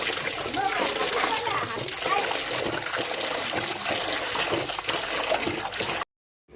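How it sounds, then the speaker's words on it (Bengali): Fish bought from the market are washed in water, with continuous splashing and trickling under people's voices before the sound cuts off suddenly into silence. "ওইদিকে মাছ ধোয়ার কাজ চলছে"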